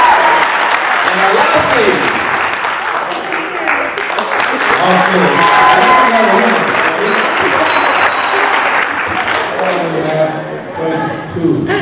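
Loud, sustained audience applause fills a Christmas ball during the ladies' best-dressed contest, steady clapping throughout with a host's voice speaking over it.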